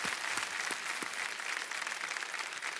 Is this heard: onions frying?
no